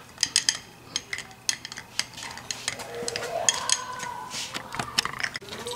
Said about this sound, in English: And I'm just gonna stir that up.